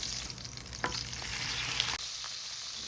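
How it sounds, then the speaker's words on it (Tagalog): Pork chops fry in oil in a pan, a close, continuous crackling sizzle with a couple of brief utensil taps, and the hiss drops slightly partway through. "Saglit lang natin to prituhin until mag-brown lang yung both sides ng ating mga karne."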